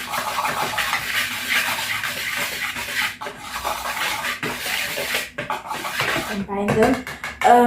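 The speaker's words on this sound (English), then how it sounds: "you take your whisk and then you combine them" A whisk scrapes and rubs through dry ingredients in a mixing bowl for chocolate banana bread, a close, continuous scratchy stirring with brief pauses and a voice talking over part of it.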